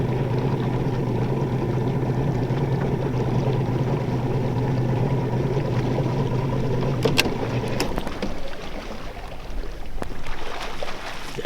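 A fishing boat's big outboard motor drones steadily with a low, even hum, then cuts off about two-thirds through, leaving quieter water and background sounds.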